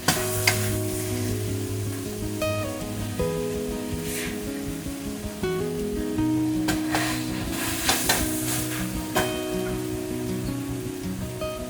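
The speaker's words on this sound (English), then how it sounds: "Now add the cooked minced pork back in. Give it a good stir." Minced pork and green beans are stir-fried together in a pan with a continuous crackling sizzle and repeated stirring scrapes, while a melodic tune plays underneath.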